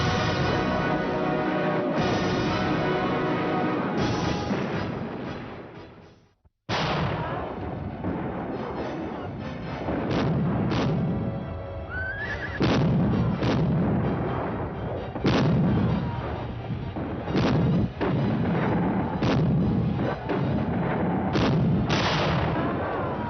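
Cannon artillery fire in a historical battle drama: repeated heavy booming blasts spread across the scene, with a brief dead silence partway through, then more thuds over rumbling battle noise.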